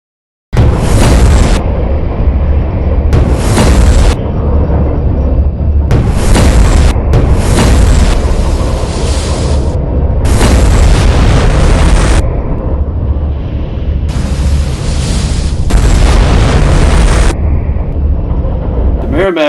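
Heavy naval guns, 168-pound shot, boom repeatedly between the ironclads Monitor and Merrimack during their Civil War battle, loud broadband blasts coming in irregular bursts over a continuous roaring din, with voices mixed in.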